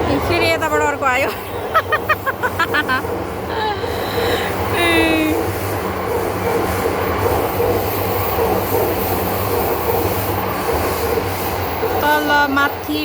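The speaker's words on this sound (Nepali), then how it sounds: "उता अर्को ट्रेन गइरहेछ।" Several trains passing on an elevated railway, a continuous loud rumble of wheels and cars with squealing tones and crowd babble around it.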